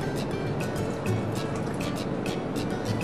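Water is poured into a pot of sofrito black beans on the stove, a steady splashing trickle that runs continuously and fairly loud throughout, heard close with no talking.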